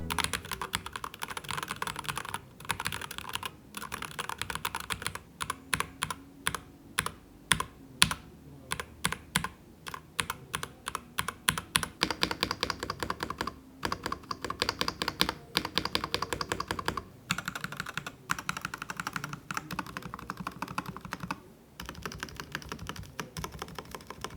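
Steady typing on a HATOR Gravity TKL mechanical keyboard with linear switches, soft, muted keystrokes, rapid bursts of clacks with a few brief pauses, close and clear, no voices.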